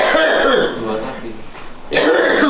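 A person coughs and clears their throat in a few rough bursts, close to the mic, followed by a louder harsh cough.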